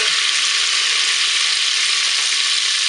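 Vinegar poured into a hot Cookeo multicooker pot, bursting into a loud, steady, hissing sizzle that holds without a break, close up.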